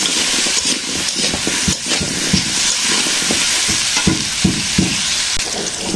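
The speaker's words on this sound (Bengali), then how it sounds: "তো যে পেঁপে ভাজা হয়ে গেছে" Papaya pieces frying in oil with turmeric powder for a village-style chicken curry, a loud steady sizzle with occasional stirring scrapes and no talking.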